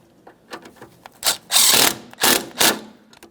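Ratchet snugging 10mm mounting bolts on the starter of a 2009-2014 Nissan Maxima with a 3.5L V6, a few short clicking bursts, close and fairly loud, with no talking.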